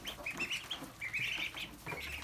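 A flock of ducks squabbling over food, with overlapping quacks, clucks and chatter that come in quick bursts, close by and moderately loud, with no talk.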